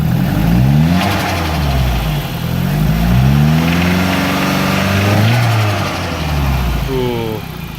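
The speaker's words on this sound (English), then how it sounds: "Oh, that turbo noise. It's running good." A car engine revs up and settles repeatedly with a rising and falling turbo whine, loud and close, running smoothly with some background noise throughout.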